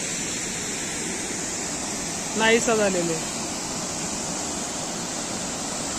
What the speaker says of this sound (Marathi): रंधा फॉलचा एवढाच भाग दिसतो